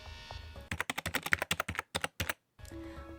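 Fingers type a diary entry on a computer keyboard in quick bursts of close, crisp key clicks, pausing briefly before the clicking resumes over a low background hum.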